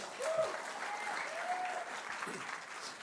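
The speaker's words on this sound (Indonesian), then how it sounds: "Tepuk tangan yuk buat Tuhan yuk." A church congregation applauds at a youth-focused service, a soft, even wash of many hands clapping at a distance, with a faint voice rising briefly over it.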